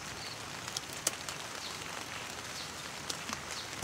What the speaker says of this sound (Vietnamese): Trời mưa rồi ấy. Mưa to to một tí rồi đấy.